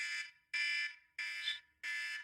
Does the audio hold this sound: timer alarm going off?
yes